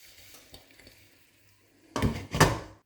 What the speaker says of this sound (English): I'm going to put a lid on those actually